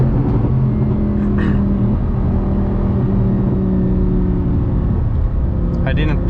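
Audi R8 V10 engine running while driving on a road that is partly wet after rain, heard from inside as a steady, loud low rumble and whir throughout, with a couple of brief higher bursts.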